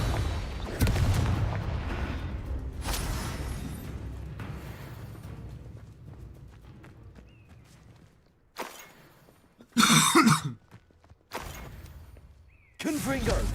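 Confringo blasting spells cast in combat in Hogwarts Legacy, several sharp bursts of booming blasts and crackle, the loudest around the middle and near the end, amid ongoing battle noise and a voice calling out.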